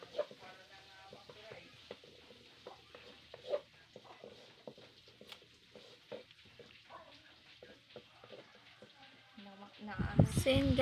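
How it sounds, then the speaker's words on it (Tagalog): Garlic sautéing in oil in a pan while cooking buffalo wings, a soft steady sizzle with faint stirring scrapes, under quiet talk, with a louder clatter at the end. "gisa-gisa lang natin yan, guys. Kasama ng bawang."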